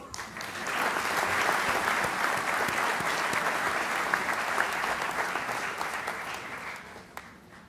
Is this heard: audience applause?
yes